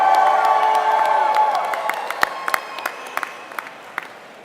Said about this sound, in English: all of our employees, give them your loudest cheer